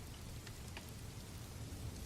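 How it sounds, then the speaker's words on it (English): Rain falling on a car's windows at night, a soft continuous patter with a few brighter droplet ticks, steady and close, with no voices. "rain began falling in gentle patterns against the Batmobile's windows"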